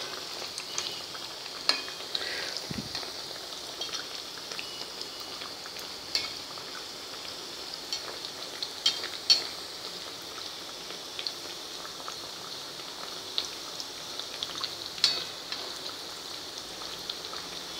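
Suran (yam) vadas frying in hot oil, a steady soft sizzle with scattered crackles and pops running throughout, close and fairly quiet, no talking.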